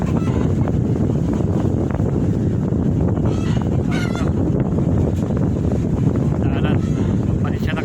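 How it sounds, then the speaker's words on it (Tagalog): Strong wind buffeting the microphone with a constant rumbling roar, with faint honking bird calls in the background. "at medyo mahangin ha, medyo maingay"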